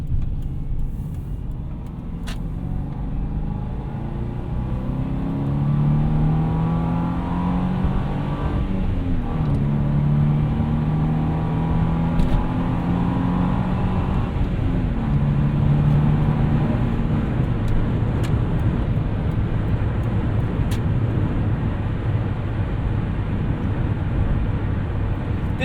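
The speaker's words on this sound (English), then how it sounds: "I was more listening to the boxer engine than anything." Boxer engine of a 2005 Subaru Forester 2.5XS with a manual gearbox, heard from inside the car as it accelerates. A loud, steady engine drone rises in pitch through several pulls, with brief dips at shifts and road rumble underneath.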